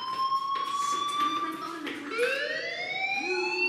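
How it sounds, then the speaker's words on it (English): A fire alarm rings in the video game Life Is Strange, a steady electronic tone with a rising pitch sweep, heard at moderate loudness under spoken voices. "Hey, do you hear that fire alarm?"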